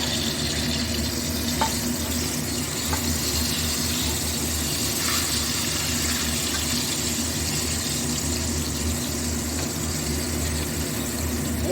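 Long eggplant slices fry together in a pan of oil with a steady, even hiss of moderate loudness and no voices.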